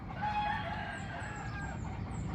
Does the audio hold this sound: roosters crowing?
yes